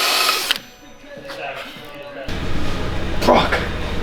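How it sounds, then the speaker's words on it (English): A power tool scuffs a used flywheel from a Nissan 350z clutch job, its surface marked by burnt oil from a leaking rear main seal; loud whirring grinding comes in short bursts over a few seconds. "Giving this eBay flywheel a quick scuff"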